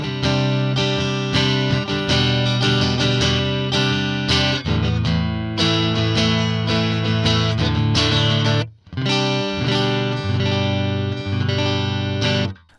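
Electric guitar strummed in a series of full, ringing chords with a short break before they resume, played alone with no talking.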